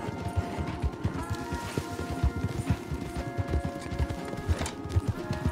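Horse hooves clip-clop in a steady walking rhythm in the Red Dead Redemption 2 video game, several horses moving together close by along a path, with a faint whinny and background ambience.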